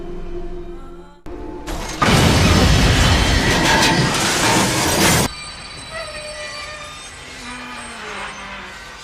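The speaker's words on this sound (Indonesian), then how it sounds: "Betapa kagetnya Joe saat kereta tiba-tiba berhenti" A train braking to a sudden stop rumbles and screeches loudly for a few seconds, metal wheels squealing, then the noise drops to a quieter mechanical hum.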